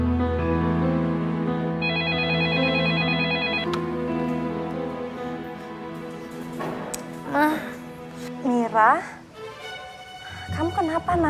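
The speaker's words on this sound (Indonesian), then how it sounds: "Aku telepon Mira dulu ya." A telephone rings during an outgoing call, a repeating electronic ring tone heard near, under music and scattered talking in a TV drama scene.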